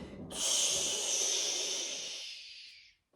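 One long, forceful breath out through the nose during a core exercise, a close, steady hiss lasting about two seconds and then stopping, with no talk.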